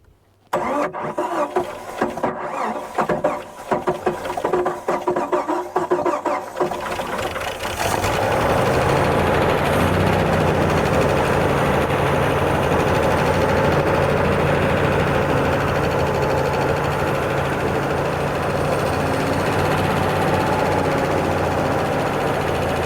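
A Jeep YJ engine cranks roughly at first, then catches and settles into a steady, loud, slightly uneven idle that runs on alone without talk.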